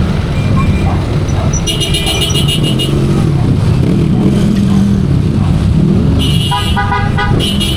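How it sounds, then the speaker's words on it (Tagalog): Heavy Philippine street traffic with cars and trucks, a continuous loud rumble of engines close by, with bursts of horn toots and voices talking over the din. "Nagka-traffic na dito eh."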